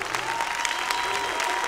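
Audience applause fills a Turkish TV entertainment show studio during a duet performance, a steady dense roar of many clapping hands heard alone at close range.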